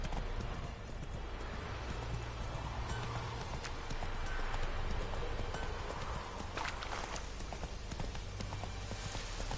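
Roach the horse's hooves clip-clop steadily in The Witcher III, with an occasional whinny over a dense game soundscape, a continuous close trot lasting throughout.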